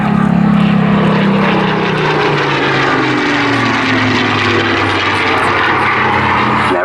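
A Spitfire flying an airshow display with the Battle of Britain Memorial Flight at Southport, its piston engine droning loudly and steadily overhead, the pitch slowly sliding downward as it passes.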